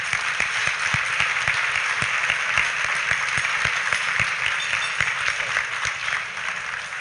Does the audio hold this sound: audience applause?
yes